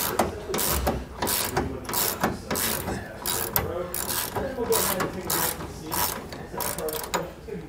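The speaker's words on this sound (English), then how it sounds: "Remove the bolt." A socket wrench ratchets steadily in repeated rapid clicking bursts while backing out an 18 millimeter bolt on a factory sway bar, rear of a 2018 Coachmen RV, close and fairly loud with no talk.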